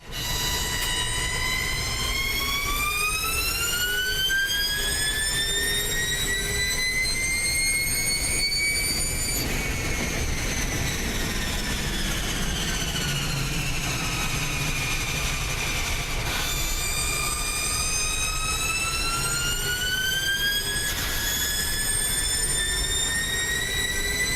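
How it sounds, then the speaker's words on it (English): Onboard a new electric touring car on a race track, the motor gives a loud continuous high-pitched whine that sweeps up and down with speed, close and steady throughout with no voices. "Got some onboard action now on this new electric touring car."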